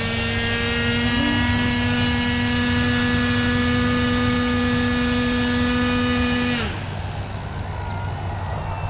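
An XR-52 model airplane flying inverted gives a steady, loud electric whine with a sustained buzzing tone that drops away near the end, heard alone without talk.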